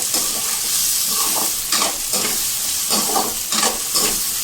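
Two large sliced onions sizzle loudly in hot oil in a pan while being stirred, with a steady frying hiss and repeated scraping strokes of the spoon close by, no voices.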